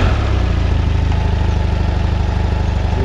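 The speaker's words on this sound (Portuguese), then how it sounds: "Partida, desligar e dar partida na moto." A BMW F800 GS motorcycle from 2017 runs at a steady, loud idle with an even, low pulsing throb throughout the short stretch and no voices.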